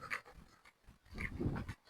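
An American Staffordshire terrier pants softly in two short spells, close by but quiet, with no talk over it.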